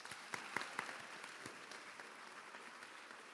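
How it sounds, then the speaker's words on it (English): An audience applauding athletes at a high school athletic awards ceremony, a dense patter of many hands clapping at moderate distance, with a few sharper claps near the start. "How about one more round of applause for our athletes?"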